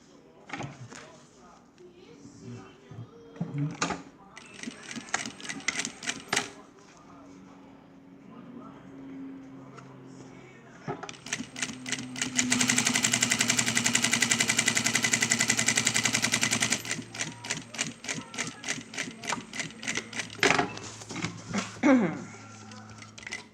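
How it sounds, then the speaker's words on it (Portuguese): A domestic sewing machine with a presser foot stitches a seam on a fabric pencil case in bursts, one steady run of rapid clattering in the middle, with short starts and stops around it. "fiz a costura com o pezinho de máquina"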